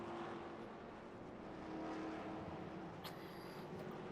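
Race cars roaring past in a continuous dense engine wash, loud and distant-sounding, with no clear gaps between passes.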